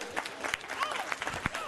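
Audience applause at a preschool annual day celebration, a short burst of scattered clapping with crowd murmur and voices mixed in.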